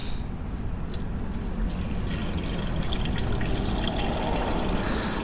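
Washer fluid pours steadily into the windshield washer reservoir of a 2015 or later Ford F150, a continuous close liquid rush and trickle that fills the whole span without talk.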